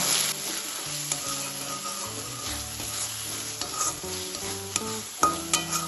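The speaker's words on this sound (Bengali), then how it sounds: "সব মশলাকে এবার ভালোভাবে কষিয়ে নেব।" Ground spices (turmeric, cumin, coriander and chili powder) frying in oil in a pan, a steady close sizzle with scraping stirs and occasional clinks of a spoon against the pot, with faint background music tones.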